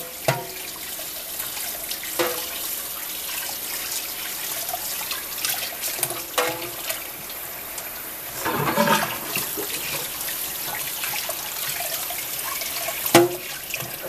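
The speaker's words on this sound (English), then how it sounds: "You have to do the catfish, just rinse them real good" Skinned catfish are rinsed under running tap water at a sink, a steady splashing flow with brief louder gushes and clunks, no talking.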